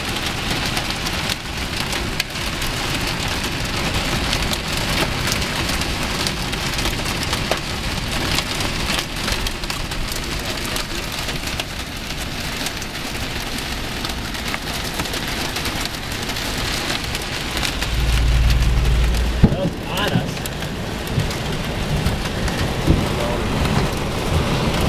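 Steady heavy rain and hail drum on a car during a Missouri storm, a dense close patter that continues throughout, with a low rumble near the end.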